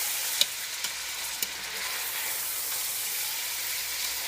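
An onion sautés in a pan, a steady broadband sizzle holding even throughout with a few faint clicks of stirring near the start, no talk over it.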